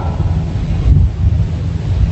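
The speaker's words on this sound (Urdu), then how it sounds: "موسیٰ علیہ السلام کی قوم پہ طوفان آیا" A thunderstorm sound effect rumbles loud and close, a dense low roar of thunder with wind-like swell and no break across the short span, with no voices over it.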